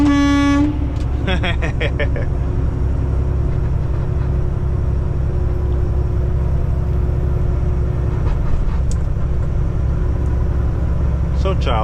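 A semi truck's horn sounds in two loud, brassy blasts near the start, heard from inside the cab as the rig heads into a highway tunnel, over a constant heavy engine and road rumble.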